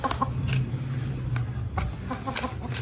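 A chicken clucks softly a few times amid quiet farmyard background noise.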